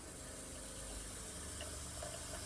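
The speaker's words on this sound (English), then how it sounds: "We got pink water coming out now." Bathroom faucet in an RV camper running with pink antifreeze during winterizing, a steady, loud rush of flowing water throughout.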